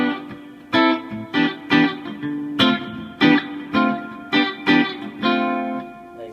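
An electric guitar plays through a NUX MG-200 modeling processor on a smooth jazz preset, clean plucked notes and chords in a relaxed rhythm, each ringing briefly, close and alone.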